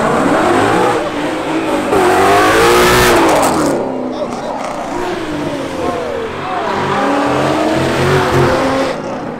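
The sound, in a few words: Ford Mustang accelerating leaving Cars & Coffee in rain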